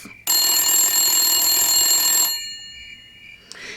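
A phone starts ringing abruptly with a bright, sustained electronic tone that lasts about two seconds, then cuts off and fades away. A short click follows near the end, and no one speaks.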